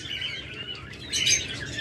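A pair of high-quality lovebirds, a B2 split blue mutation, chirps in quick high-pitched tweets over a low steady hum, the calls swelling into a louder burst near the end.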